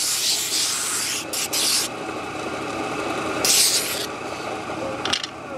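Sanding a board by hand, heard as bursts of close, raspy rubbing strokes separated by quieter pauses, with a low background hum.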